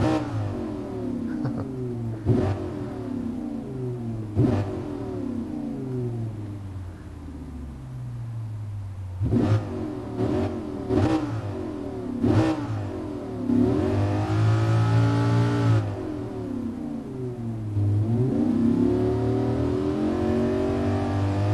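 A 2015 Lamborghini Huracán engine in GT Sport, rising and falling revs of a high-revving V10 with sharp blips, long climbing sweeps and several throttle bursts, loud and close with no talk.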